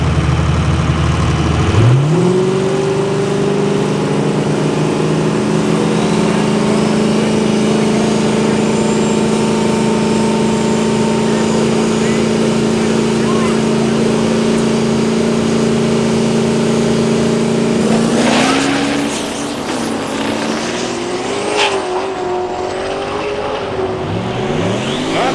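A drag racing car makes a pass down the strip: a loud engine holds a steady high drone, then the pitch climbs through a gear change before the sound drops away, with no voices.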